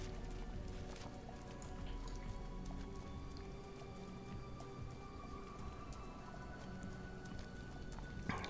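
Horse hooves clopping while riding in the video game Diablo 3, a steady run of soft, even footfalls over a constant bed of ambient game sound, moderately quiet with no talking.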